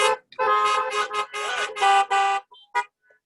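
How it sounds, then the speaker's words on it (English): Several car horns honk in a burst at a graduation celebration for an executive leadership class, loud overlapping blasts over about two seconds followed by a few shorter, scattered toots. "let's give them a honk also"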